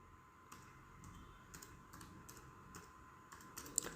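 Light keystrokes on a computer keyboard as HTML table code with cell spacing is typed, quiet irregular taps in small bursts, alone with no voices.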